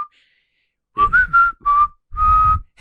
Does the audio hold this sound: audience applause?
no